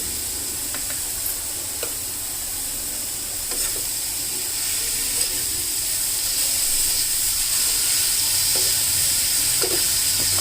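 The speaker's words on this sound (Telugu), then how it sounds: "ఇప్పుడు వీటిని లైట్గా కాసేపు వేయించుదాం" Vegetables and egg frying lightly in a pan with salt, a steady close sizzle and hiss running throughout, with a few soft stirring clicks and no talking.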